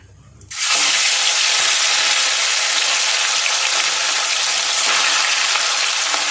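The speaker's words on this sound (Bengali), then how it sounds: "মাছটা ভাজা হচ্ছে" Four pieces of rohu fish drop into hot oil with a little ghee and salt, setting off a loud, steady, close sizzle that stays even throughout after a quiet start.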